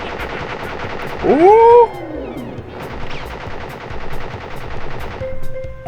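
A boss fires a gun in the video game Crash Bandicoot, producing loud, rapid machine-gun bursts that rattle almost continuously, with a short excited shout early on.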